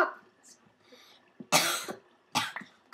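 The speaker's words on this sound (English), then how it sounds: "Cough." Two sharp, close coughs about a second apart, with quiet talk and faint background noise between them during a Minecraft survival game session.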